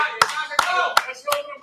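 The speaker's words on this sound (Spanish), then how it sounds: "Oye, un aplauso para Gigante Angelino" A few separate, sharp hand claps for boxer Gigante Angelino at a live event, spaced roughly evenly and ringing out over steady voices talking underneath.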